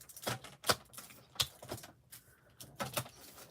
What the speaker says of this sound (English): Let's cut some foil real quick.